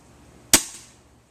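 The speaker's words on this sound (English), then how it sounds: "Alright, time for a few warm-up shots." A single sharp crack from a Weihrauch HW50S spring air rifle fired as a warm-up shot outdoors, close and loud with a short decaying tail.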